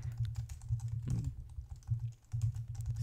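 Code is typed on a computer keyboard in a rapid, steady run of close key clicks, broken by a single heavier keystroke and one short pause.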